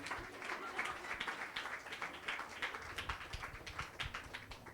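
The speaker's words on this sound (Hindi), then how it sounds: "सो उसका तालियों के साथ स्वागत करेंगे मिस्टर आदर्श उज्जिनवार" A congregation at a New Year church service claps in welcome of a speaker, a steady, fairly faint patter of many hands that holds throughout, with murmuring underneath.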